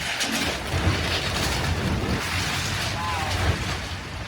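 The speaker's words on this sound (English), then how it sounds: "powerful waves slammed into coastal communities and swept several homes away" Powerful Hurricane Fiona waves pound coastal communities in Canada, a loud, continuous roar of surf and buffeting wind noise with no quiet gaps.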